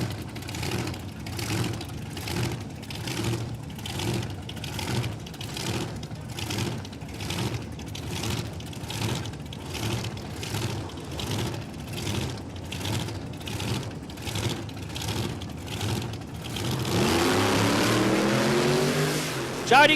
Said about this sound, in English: Jody Crimmins, that big supercharger and injection setup poking through the bonnet